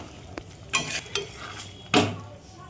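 Potatoes fry in a pan for paneer biryani, a low background sizzle broken by a few scraping strokes of a spatula stirring the food, close and without talk.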